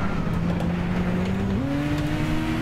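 A race car in the Gran Turismo 6 video game drives steadily with a loud, continuous engine drone that steps up in pitch partway through as it accelerates, no talk over it.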